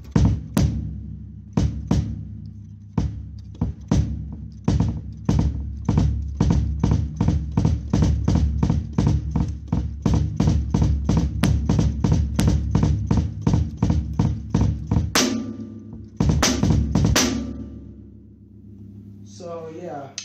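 A kick drum played with the heel-toe slide technique on the pedal: rapid, evenly spaced thumps in a steady stream, with quick doubled strokes, close and loud, with a short pause and a burst near the end.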